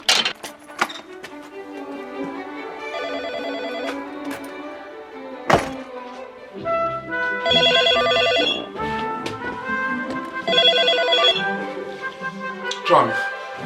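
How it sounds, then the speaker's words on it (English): A telephone rings in repeated bursts in a 2005 setting, the tones standing out clearly against a steady background of other sound. "Professor Nick Humphrey gets a phone call from a colleague."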